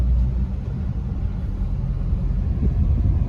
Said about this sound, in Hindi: आराम से उठ गई कार।